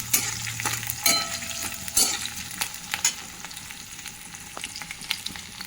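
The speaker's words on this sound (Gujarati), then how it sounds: "એ લીલા મરચાં ધીમા તાપમાં થવા દેવાનું." Green chillies frying slowly over a low flame, a soft continuous sizzle broken by repeated spatula scrapes and taps against the pan, no talking.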